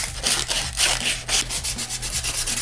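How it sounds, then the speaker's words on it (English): Sandpaper rubbed back and forth along a handmade wooden wand, a steady rhythm of raspy scratching strokes, close and fairly loud, with no voices. "So get your sandpaper out and just sand this down."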